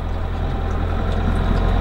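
A tractor pushing snow at a winter lakeside campground produces a steady, loud, low engine rumble with no pauses, heard continuously throughout.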